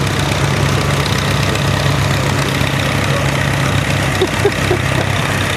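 A 544 Gold Demo utility tractor idling at a rally, its engine a steady, loud low rumble with an even knock running unchanged throughout, no talk over it.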